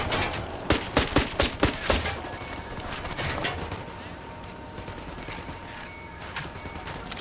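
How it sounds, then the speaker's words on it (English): Gunfire in the shooter Ghost Recon Wildlands: a rapid burst of loud close shots, followed by continued scattered firing and a rumbling battle din, with no speech. "Shooting these fuckers."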